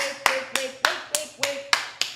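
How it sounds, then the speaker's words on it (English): Sharp, close hand claps and finger snaps land in an even rhythm, seven crisp hits over about two seconds, with a faint sustained tone ringing underneath. "Clap, snap, shake, vibrate like that."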